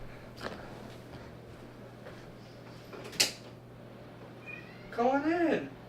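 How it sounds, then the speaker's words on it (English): A cat meows at a door, a series of rising and falling cries near the end, preceded by a brief sharp knock or click, all over a low steady hum. "I hear a cat meowing at the door."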